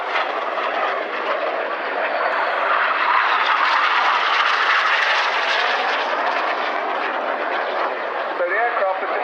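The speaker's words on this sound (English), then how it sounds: "So the aircraft are just 100 feet above the ground in that manoeuvre, and they cross just 100 feet apart." Red Arrows jets fly low in an air display at Waddington in 2011, making a loud, continuous roaring rush that swells and holds close by, with a commentator's voice over it.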